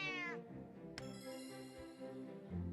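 A digital cat meow sounds as a kitty piece is placed in the Cottage Garden board game on Steam, with a bright chime and tinkling tones layered over soft background music.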